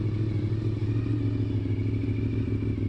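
Two Honda VFR 750 motorcycles idle steadily after sitting before the first snow, one with a nearly complete set of fairings. The engine gives a continuous, close, even rumble with no revving and no talk over it.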